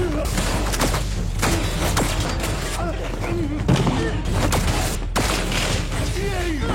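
Close-range gunfire in a pistol fight between two gangsters, a cluster of sharp shots cracking irregularly over a dense, loud dramatic score, with voices reacting in between.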